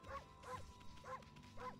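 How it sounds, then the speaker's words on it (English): Amaterasu, the white wolf of the video game Okami, barks four times in a steady rhythm, each short yip clear and bright over a soft, continuous game music bed. "Barking brings up my units."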